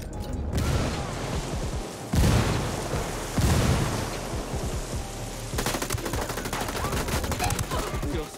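Rapid gunfire and a grenade blast in a PC first-person shooter, sustained bursts of automatic fire with heavy booming hits, loud and continuous, with a voice briefly audible underneath.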